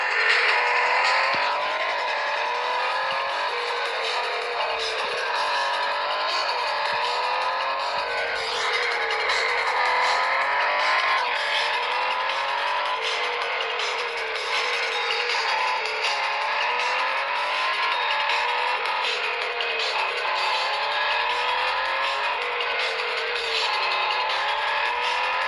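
Race cars speed around a track in the mobile racing game Real Racing 3, a steady engine drone with repeated rising and falling gear-change sweeps and tyre noise, with no talk.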